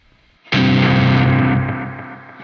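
Electric guitar run through a Devil's Triad pedal on its delay setting: a loud, distorted chord struck once that rings out and slowly fades with lingering repeats.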